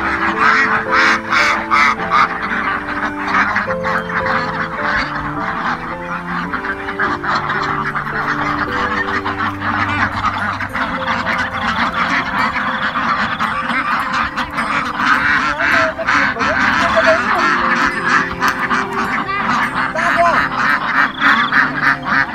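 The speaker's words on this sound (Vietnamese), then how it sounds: "Lũ vịt gặp chủ kêu to quá" Loud, continuous quacking and honking from a crowd of ducks at a pond, many birds calling over each other close by without a break.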